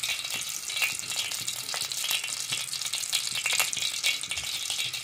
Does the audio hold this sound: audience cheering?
no